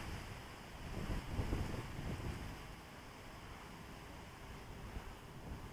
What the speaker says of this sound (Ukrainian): А сьогодні вітер.